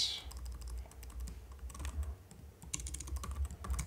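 Rapid bursts of keystrokes on a computer keyboard during Python coding, fairly close and moderately loud, with irregular clusters of clicks and short pauses, no talking.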